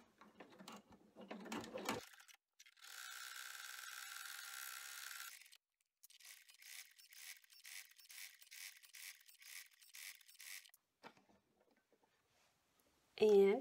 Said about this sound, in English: we're going to take it back to the machine, and it is going to run the stitch to hold these two pieces together